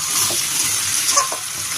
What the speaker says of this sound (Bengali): ভালো করে মশলার সাথে কষিয়ে নেবো